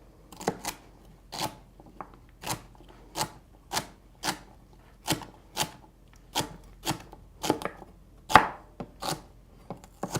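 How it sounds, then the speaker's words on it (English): Celery chopped with a knife on a cutting board: about a dozen crisp, evenly spaced chops, close and clear, with light rustling between strikes and no talk. "So take celery, slice it down the middle. We're going to chop that up."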